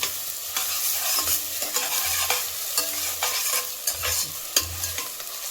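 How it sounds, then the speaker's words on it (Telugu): Onions fry in a pan for a chicken curry, a steady broadband sizzle running throughout with repeated scraping stirs of a spatula at intervals, close and fairly loud, with no voices. "ఆనియన్ మంచిగా ఫ్రై అవ్వాలి."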